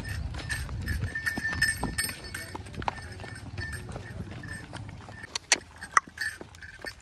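Horse hooves clip-clop on the ground as a newly bought mare is led along, an irregular run of close knocks mixed with background bustle.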